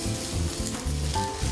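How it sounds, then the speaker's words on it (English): Scallops searing in a hot pan, a steady close sizzle and crackle of frying that holds loud and continuous throughout with no talking. "that sizzle, is exactly what you want to hear"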